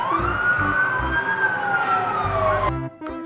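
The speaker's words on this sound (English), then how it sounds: "Fire truck." A fire truck siren wails in a loud, continuous rising-and-falling tone over a rhythmic musical backing for most of the clip, ending suddenly near the close.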